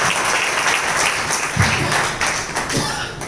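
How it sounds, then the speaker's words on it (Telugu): A congregation at a Sunday church service claps loudly together, giving a thick, continuous wash of applause with a few sharper individual claps standing out. "చప్పట్లు గట్టిగా."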